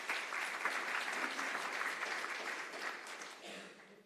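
A symposium audience claps in a room, a dense steady round of applause sustained for several seconds before tapering slightly, with no talking over it.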